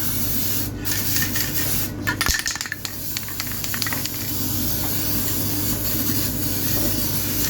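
An aerosol spray paint can hisses steadily and continuously while paint goes onto a Renault Twingo, with a few short clicks and rattles near the start.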